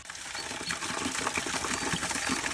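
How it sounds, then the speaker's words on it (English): Water runs steadily from a small waterfall, a close continuous splashing hiss with no voices. "So this is the waterfall."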